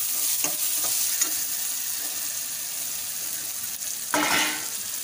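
Prawns frying in a pan over a steady, broad sizzle, with a few soft stirring scrapes near the start and a louder burst of sizzle toward the end, no voices.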